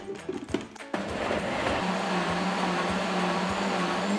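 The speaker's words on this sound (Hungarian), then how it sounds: "Az egész úgy, ahogy van, pattanhat fel a turmixgépre." A blender whirs steadily, pureeing a pumpkin sauce seasoned with salt and pepper for pumpkin gnocchi; a few knocks are followed by a loud, continuous motor drone close by.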